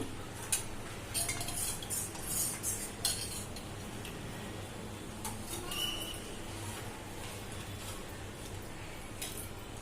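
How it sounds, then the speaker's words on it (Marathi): A spoon stirring Chicken Manchow soup in a pot, with repeated light metallic clinks and scrapes against the pot over a steady low background hum. "टाकताना हलवत राहा हे बघा खाली चिपकायला नको म्हणून"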